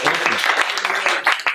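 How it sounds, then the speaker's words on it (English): Applause from a roughly thirty-person audience at a lunch-and-learn panel event in a Sydney hotel, a dense steady patter of many hands clapping throughout. "Big round of applause for everyone here."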